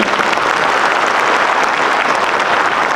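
Dense, loud applause fills a concert hall at the opening of a jubilee church concert, many hands clapping steadily and evenly throughout with no pause.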